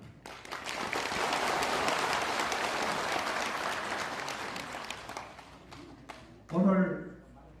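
An audience at a Korean Vietnam War veterans' rally applauding introduced guests, a sustained wash of clapping that swells and then fades, followed by a voice speaking.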